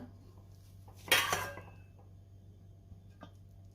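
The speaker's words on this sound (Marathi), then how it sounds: "खिचडी एका प्लेटमध्ये काढून घेते" Khichdi being spooned from a pot onto a plate, with one loud metallic clank and scrape of utensil on cookware, followed by quieter faint clinks over a low steady hum.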